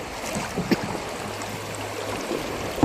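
Water rushing over rocks in the rapids of the Song River, a steady broadband wash of flowing water heard up close with a faint low hum and no talking.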